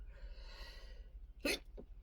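A single sharp sneeze bursts out near the close mic, with a short breathy catch right after it, over a quiet room hum.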